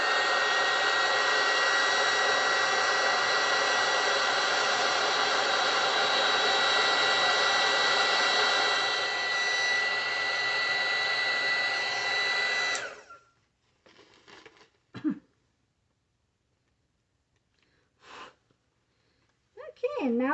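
A hair dryer blasts hot air onto dyed flowers, a loud, steady roar for about thirteen seconds before cutting off, followed by faint handling sounds and brief bits of talk.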